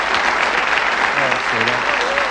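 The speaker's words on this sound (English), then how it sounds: "Give him a round of applause." Steady applause from a studio audience at a 1984 Bullseye darts game show Christmas special, a dense continuous clatter of many hands clapping, with some voices mixed in underneath.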